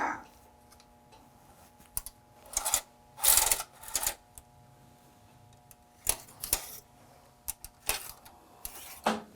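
Linotype keyboard key rods are pulled out in a row, giving irregular clusters of metallic clicks and rattling scrapes separated by quiet gaps, close and fairly crisp.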